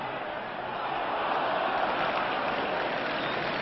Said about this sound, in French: le public applaudit cette équipe de France